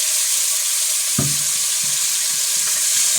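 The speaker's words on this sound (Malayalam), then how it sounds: "തക്കാളി ഒന്ന് വാട്ടിയിടുന്നു." Tomatoes sautéing in oil in the same pan, a steady bright sizzle with a couple of clunky spoon or pan knocks, close by and with no talking.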